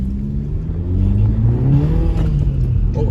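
A VW Golf R fitted with a Borla cat-back exhaust accelerating on a winter drive in Idaho, engine note rising steadily in pitch as revs climb, loud and close from inside the car.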